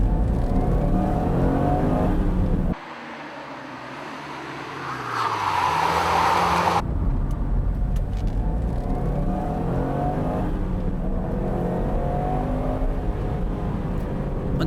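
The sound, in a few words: Nissan Skyline GT-R driven through corners with tail slides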